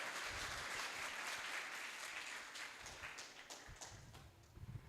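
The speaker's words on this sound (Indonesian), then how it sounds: "Kita berikan tepuk tangan yang meriah kepada narasumber kita pada kesempatan kali ini." Audience at a seminar on Al-Azhar applauding the speaker, a dense sustained wash of clapping that fades slightly toward the end, with a few sharper claps near the close.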